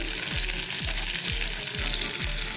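Garlic and two red chillies fry in hot oil for a tadka meant for a spicy veg Maratha curry. A dense, loud sizzle holds steady under a low, rhythmic thumping. No one speaks.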